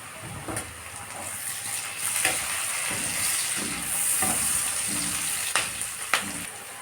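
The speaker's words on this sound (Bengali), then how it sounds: "পেঁয়াজ কুচিগুলো দিয়ে দেব পেঁয়াজটাকে লাল করে ভেজে দেব এর মধ্যে দিয়ে দেবো আমি টমেটো কুচি" Chopped onions and tomato frying in a pan for a spiced chicken kosha, giving a steady close sizzle with occasional stirring clicks and scrapes, no voices.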